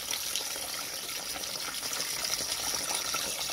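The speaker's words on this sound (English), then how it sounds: "Let's pour it in. This might take a minute. All right, water's going in." Distilled water pours steadily into a container, a continuous splashing gush that holds at a near, even level throughout with no talking.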